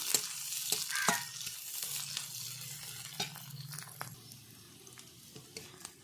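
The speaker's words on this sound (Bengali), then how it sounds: "এটা ভালো করে ভেজে নিতে হবে।" Chopped chilies and other ingredients for a motor greens dish fry quietly in a pan, a soft sizzle broken by scattered clicks and light scrapes of stirring.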